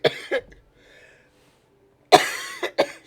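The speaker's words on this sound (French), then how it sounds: "Je vais finir un jour par me débarrasser de cette toux-là" A woman gives a few short coughs at the start, followed by a pause and then a harder cluster of two or three loud, close coughs near the end.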